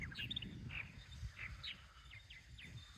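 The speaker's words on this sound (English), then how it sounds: "We have a whole colony of purple martins now." A colony of purple martins around a birdhouse calls at a moderate distance, a series of short chirps and warbles repeating irregularly over a low background hum.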